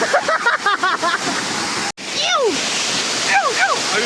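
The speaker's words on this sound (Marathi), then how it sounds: "छोटा धबधबा आहे पण लय मोठा एवढा भयानक प्रेशर आहे ना" Rushing water at the small but high-pressure Darekar waterfall roars as a loud, steady wash throughout, with voices and whistle-like calls rising over it.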